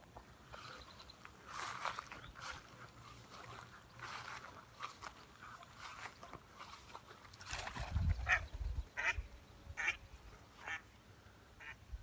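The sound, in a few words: ducks quacking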